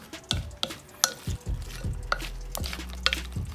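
Filipino sisig, juicy chopped pieces with vinegar, being stirred and mixed in a hot pan, with repeated close scraping and clacking strokes over a steady soft sizzle.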